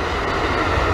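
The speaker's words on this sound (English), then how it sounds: "Train going by then." A train going by near a workshop, a steady loud rumbling roar filling the whole short stretch with no talk.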